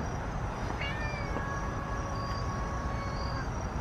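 A feral cat meows in a few drawn-out, rising cries over a loud, constant rumbling background, moderately close.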